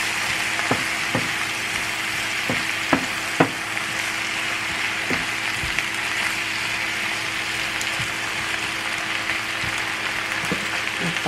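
Chicken sizzling in a pan with red wine, stirred steadily: a constant bright frying hiss with sharp scraping knocks of the utensil at irregular intervals.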